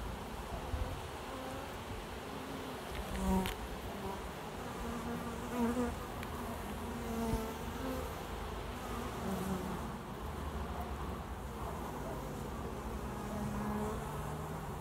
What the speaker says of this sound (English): Little dancing bees.